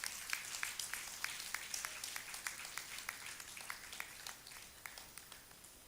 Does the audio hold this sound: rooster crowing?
no